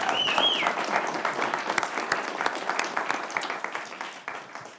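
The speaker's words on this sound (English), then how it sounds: "Now let's give them a big round of applause" At a local meet-the-candidates night, a room of people applauds the candidates with continuous clapping that gradually thins toward the end, plus a brief whistle-like tone at the start.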